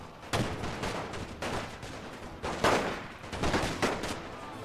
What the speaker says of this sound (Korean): 오, 총알 오고 있긴 하네요.